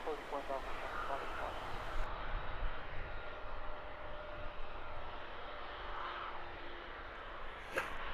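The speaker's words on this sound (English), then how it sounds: "Ryanair passing the tower, making its way towards us for departure." A Ryanair Boeing 737-800 jet taxis past the tower at Luton Airport toward departure, a faint, steady engine hum running far off and continuously beneath a person talking.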